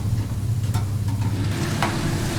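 Salted dried cod, bacalhau, sizzles in a pan as it fries, a steady close crackle with a few brief clinks of stirring, no voices.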